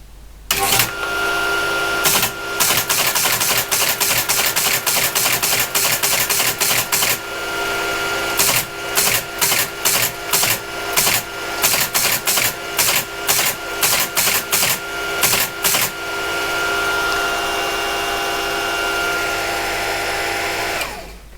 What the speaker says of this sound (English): Okay, it's printing, but it's not printing the correct characters.